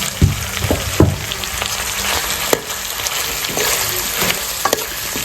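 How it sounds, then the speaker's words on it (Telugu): Cut okra frying with ginger garlic paste for okra masala pulusu, a steady close sizzle with occasional spatula knocks and scrapes against the pan, no voices. "జింజర్ గార్లిక్ పేస్ట్ వేగిన తర్వాత కట్ చేసి పెట్టుకున్న బెండకాయలు వేసేసుకోవాలి."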